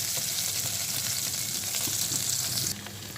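Steady sizzling of food frying in hot oil while making a Punjabi rice-flour dish, a continuous crackling hiss close by, dropping slightly in intensity near the end.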